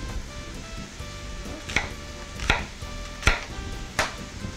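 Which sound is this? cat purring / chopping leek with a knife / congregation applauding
chopping leek with a knife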